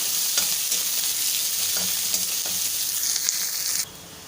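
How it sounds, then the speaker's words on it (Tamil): Onions frying and being stirred in a pan, a steady close sizzle with intermittent scraping stirs, cutting off abruptly near the end. "இப்போ வெங்காயத்தை சேர்த்துட்டு ஒரு ஒரு நிமிஷத்துக்கு இதை வந்து நம்ம அப்படியே நல்லா கலந்து விட்டுக்கலாம்"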